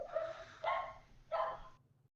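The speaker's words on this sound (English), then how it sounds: "No, it's our dog. He barks at everything." A pet dog barks in three separate bursts, fairly close and alone with no talking.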